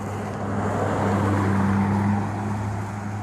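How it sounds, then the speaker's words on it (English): A car pulling into a residential driveway, its engine giving a steady low hum and rumble at moderate distance, with no talking. "she's actually is just putting her car in the driveway"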